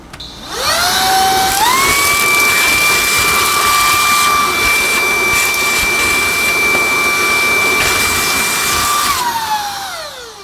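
A Shark cordless vacuum with a small nozzle attachment whirs up to a loud, steady high-pitched whine while cleaning a corner, then winds down at the end.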